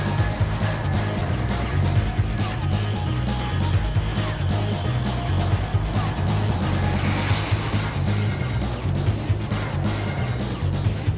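A tuned car with carbon fibre trim sits with its engine running, a steady low rumble and idle throb continuing for about eleven seconds, with some clatter and a brief rise in higher noise midway.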